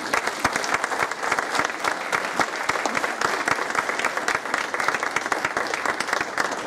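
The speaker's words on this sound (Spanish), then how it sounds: "Recibamos con un aplauso al maestro" An audience at a talk on historic haciendas in General Terán, Nuevo León, applauds to welcome a speaker, producing steady, dense clapping from many hands that fills the room evenly throughout.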